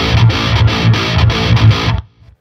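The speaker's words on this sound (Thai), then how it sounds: "บอกเลยครับว่าพิกอัพตัวล่างเนี่ยเสียงแตกมีความพุ่งอย่างมากเลยครับ" A heavily distorted seven-string electric guitar on its bridge pickup chugs out a rhythmic riff with thick low palm-muted notes, loud and close, then cuts off abruptly near the end.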